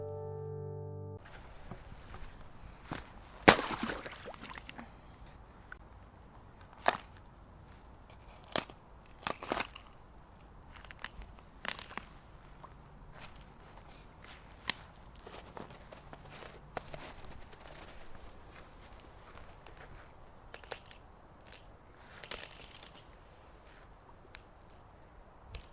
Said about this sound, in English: Here is the sound of her breaking the ice of a river with her boots and almost falling in.